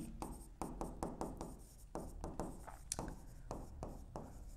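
Pen or marker writing out notes on a board or paper during an accounting lesson, a steady run of short scratchy strokes with brief pauses, close and clear with no talk over it.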